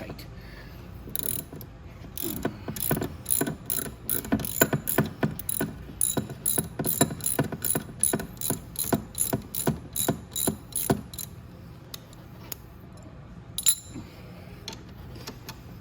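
A ratcheting wrench clicks in rapid, repeated strokes, loosening a tight front fork bolt on a Venom Roma 50cc scooter, the sharp ticking bursts close and clear, slowing and stopping near the end.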